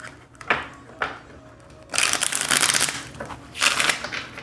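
Tarot cards shuffled by hand, a couple of soft riffles followed by two longer, louder bursts of rapid card flutter, close and alone.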